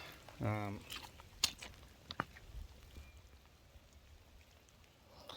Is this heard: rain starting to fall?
yes